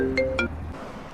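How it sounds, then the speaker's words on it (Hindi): A phone ringtone signals an incoming call, two short bright melodic chimes in quick succession, close and clear, before it cuts off into quiet background. "अरे साले का फोन आ रही है"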